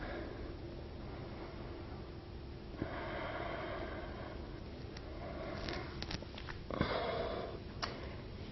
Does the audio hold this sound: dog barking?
no